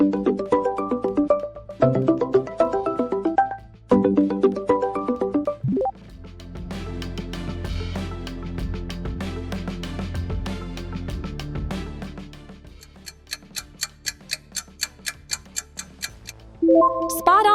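A Google Pixel smartphone ringtone rings out clearly with no voices. Repeated melodic tone phrases give way to quick, clock-like ticking over a low drone, followed by a run of short, high, evenly spaced beeps.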